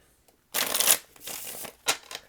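Tarot-style playing cards being shuffled in a few quick riffling bursts, close and crisp, with short pauses between.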